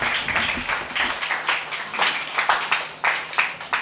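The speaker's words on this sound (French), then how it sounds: "Acclamons cette parole." A church congregation applauding in loud, uneven bursts of rhythmic clapping that swell and fade again and again, close and dense throughout.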